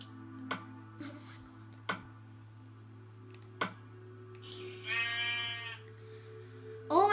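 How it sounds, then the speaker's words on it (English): A sheep bleats in Minecraft, a short wavering call amid sparse clicks and a steady low hum, with another bleat starting at the end. "Oh, there's a sheep."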